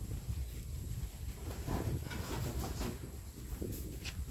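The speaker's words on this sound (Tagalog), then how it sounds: "Sarap mahangin dito." Gusty outdoor wind buffets the microphone with a low rumbling roar, steady and fairly loud, with no voices present.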